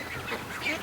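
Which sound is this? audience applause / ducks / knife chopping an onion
ducks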